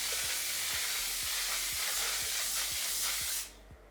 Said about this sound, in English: 10 to 12 inches away from the face, spray in a circular motion